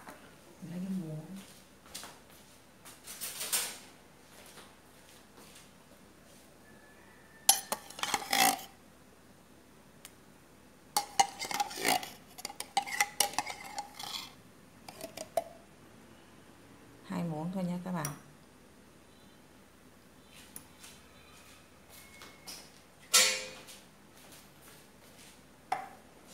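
A spoon clinks and scrapes against dishes in a kitchen while making bread pudding with coconut cream, in scattered short bursts separated by quiet gaps.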